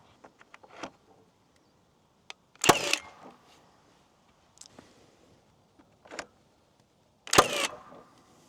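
Milwaukee cordless framing nail gun firing into a large arena fence, two loud sharp bangs several seconds apart with lighter clicks and taps between, no talking.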